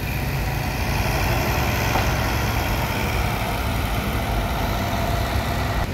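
A Scania bus engine idles at a bus terminal with a steady, low diesel rumble close by and a constant background hiss, with no one talking.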